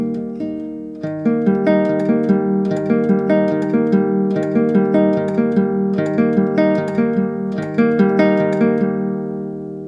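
Acoustic-style guitar fingerpicking a song's intro pattern, a steady rolling arpeggio of plucked notes at close range, clear and alone with no talking, ringing out at the end.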